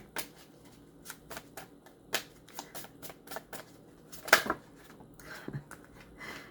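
Tarot cards are shuffled by hand in a series of quick riffling flicks and soft taps, close and fairly quiet, with a sharper burst of card noise near the end.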